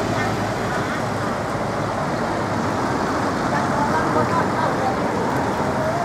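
Busy traffic at Vientiane's international bus station in Laos, with small buses and tuk-tuks arriving, forms a steady, dense roar of engines and road noise that runs unbroken from near to mid distance. Voices mingle faintly underneath.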